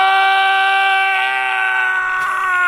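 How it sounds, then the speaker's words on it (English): A sustained, steady cry from Totec, the character in the game Lara Croft and the Guardian of Light, held at an even pitch for a few seconds and ending in a brief crackle. "Does Totec scream? Totec does scream."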